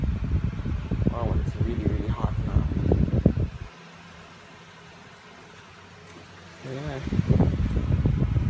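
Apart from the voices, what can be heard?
electric fan running on high setting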